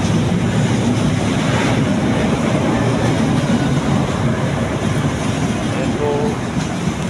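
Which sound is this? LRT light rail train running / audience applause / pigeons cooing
LRT light rail train running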